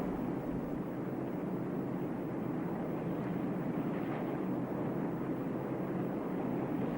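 The four 15,000-horsepower turboprops of a Tupolev Tu-95 Bear, driving eight-blade contra-rotating propellers, give off a steady, broad droning roar. It holds level for the whole stretch and sounds distant and muffled.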